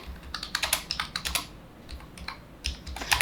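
HTML code typed on a computer keyboard, with quick bursts of close, crisp key clicks, a short pause and then a few more keystrokes.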